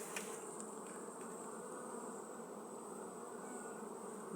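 Many Carniolan honeybees hum around a hive in a dense, continuous drone, steady and close, with no voices over the buzzing.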